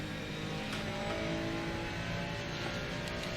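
A race car engine from the Assetto Corsa Competizione racing game drones loud and constant near a corner exit, with a dense mechanical roar throughout and no voices.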